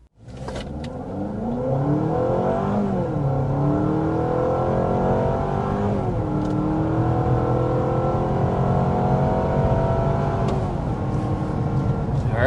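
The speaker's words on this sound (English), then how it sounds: "there was a 60 mile an hour acceleration with the CR-V hybrid" A 2025 Honda CR-V Hybrid with a 2.5-liter four-cylinder and electric assist accelerates hard to 60 mph, its engine drone rising steadily in pitch with a couple of brief dips, loud and continuous from the interior with no talking.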